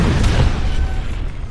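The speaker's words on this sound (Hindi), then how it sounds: "तेहरान में मेहराबाद एयरपोर्ट के पास धमाके।" An explosion near Mehrabad Airport in Tehran, heard as a deep, loud rumbling boom that rolls on for over a second, low and heavy without speech.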